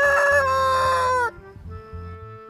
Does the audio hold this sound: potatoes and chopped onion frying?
no